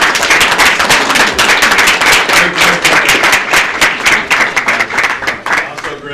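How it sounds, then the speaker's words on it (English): Loud, close clapping from a crowd at a city commission meeting, dense and sustained with sharp individual claps standing out, thinning a little near the end. "could you please stand so we can give you a round of applause?"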